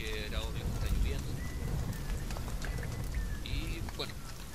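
Steady rain falls in The Forest video game, a dense continuous hiss that runs the whole time alongside other game effects and faint tones, with no one talking.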